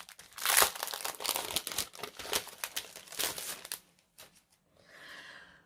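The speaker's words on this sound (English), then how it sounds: "I'm going to have a look next at the pattern paper." Sheets of patterned craft paper from a card-making kit crinkle and rustle close up, loud at first and then fading to softer handling near the end.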